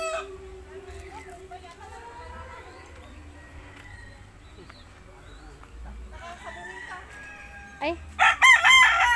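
A fighting rooster crows loudly near the end, a harsh rising call over a busy outdoor farm scene with people talking and animal sounds, including goats and a turkey, in the background.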